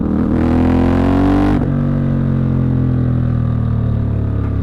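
A CFMOTO 450MT motorcycle engine while riding, a loud steady drone close up that rises in pitch, then dips at a gear change and settles into a lower, even hum.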